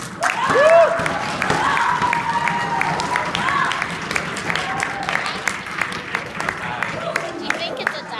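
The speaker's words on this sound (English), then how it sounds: "If we can give the team another round of applause" A debate audience at a tournament final applauds the team, with dense sustained clapping from a crowd in a hall that fades slightly over several seconds while a voice speaks over it.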